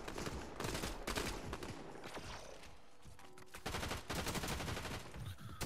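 Rapid bursts of automatic gunfire from the video game Fortnite crackle in dense, loud volleys with brief gaps, continuous across the whole stretch.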